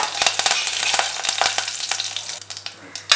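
Mustard seeds, urad dal, fenugreek and curry leaves frying in hot oil in a kadai for ladies finger kara kuzhambu, a loud close sizzle with crackling pops and stirring throughout.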